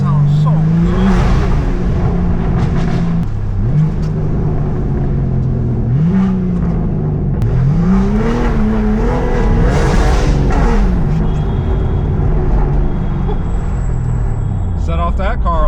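Heavily modified BMW M4 G82 engine revving loudly and steadily, with repeated rising and falling rev sweeps over a constant rumble, close by and continuous.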